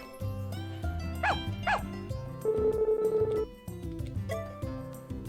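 A dog barks a few short times in the video game Story of Seasons: A Wonderful Life, the yaps cutting over steady game music and electronic tones.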